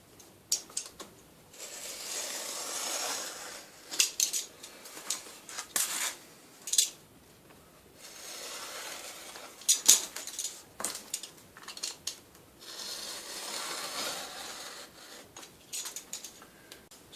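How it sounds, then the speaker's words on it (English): A knife scrapes and slices along the edge of a wooden sanding board, trimming off overhanging sandpaper in a series of short, close rasping strokes separated by pauses. "we can quite simply use the edge of the board as a straight edge to run the knife down and trim that off"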